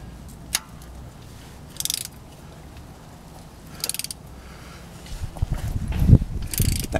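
Ratchet tightening the transmission drain plug on a 2012 Honda Pilot 4WD, with a few short, close clicking bursts followed by louder clunking and handling noise.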